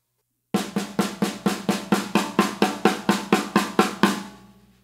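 A beginner's single stroke roll on drum sounds as about fifteen evenly spaced, even-volume hits, each with a short ringing decay, played alone at a steady tempo before fading out.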